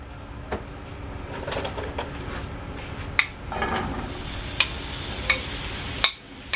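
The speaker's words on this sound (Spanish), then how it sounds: "Y vamos a comenzar a sofreír esto." Onion and garlic sautéing in extra virgin olive oil in a pan, a soft steady sizzle with a few scraping stirs and light clinks, fairly quiet and with no talking.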